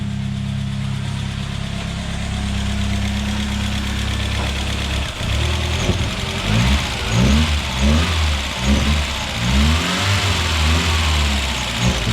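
A Peugeot 806 engine with its pre-silencer removed runs at a loud, rough idle, then revs in repeated bursts with a throaty, uneven note, close by.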